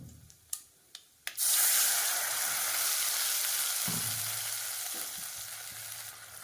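A few sharp taps, then a sudden loud hiss of ground masala hitting hot oil for coconut rasam, settling into a steady, close sizzle with faint stirring clinks.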